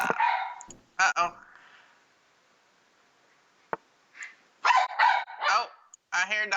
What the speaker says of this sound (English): Oh, I hear a dog.